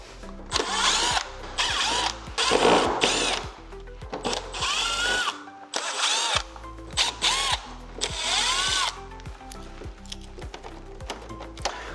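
A power tool unscrews the visible screws on a 2023 Samsung Wind-Free Classic stand air conditioner, with repeated short loud whirring bursts separated by brief pauses, close up and with no talking.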